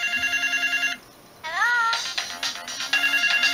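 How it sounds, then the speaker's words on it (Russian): Polyphonic ringtone from a Samsung C200 mobile phone while it vibrates, giving a low buzzing hum under the bright melodic tones; the melody breaks off briefly, then resumes with sweeping notes, loud and close. "Вот с этим рингтоном еще и вибрирует."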